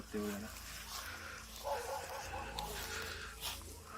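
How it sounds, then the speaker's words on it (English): A few faint dog barks from a distance over a quiet background, with a low voice murmuring at times. "Oh, the animals are barking."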